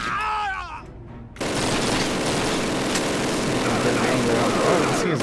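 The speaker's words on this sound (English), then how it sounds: "It would seem that there's an unfriendly machine gun out there." Enemy machine gun fire in the Call of Duty video game, a dense, loud, continuous burst of rapid shots that cuts in abruptly after a brief quieter moment with a voice, then rattles on without pause.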